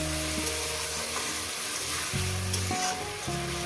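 Water from rinsing the spice bowl poured into a hot pan of fish-head and taro-stolon curry, setting off a steady, dense sizzle that runs throughout. A faint tonal hum sits underneath, and no one speaks.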